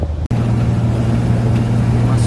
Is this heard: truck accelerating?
yes